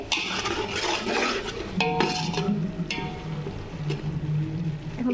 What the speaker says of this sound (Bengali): আর এখানে মশলা কষাইতেছি